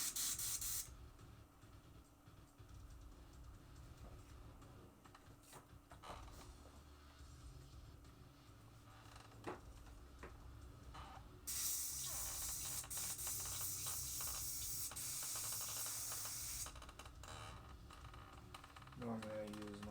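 Steady hiss of a spray gun applying a transparent clear coat, continuous and close, briefly stronger partway through, with faint background noise.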